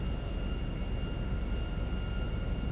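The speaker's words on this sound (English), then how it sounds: "Letting the airplane settle on its way down." A HondaJet HA-420 business jet drones steadily while descending to land in Grand Theft Auto V. The even, continuous engine roar stays unchanged throughout, with no voices.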